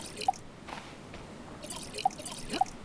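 Water pours into a jug in the survival video game Stranded Deep, heard as faint liquid splashing with a few distinct, crisp drip plinks scattered across the moment.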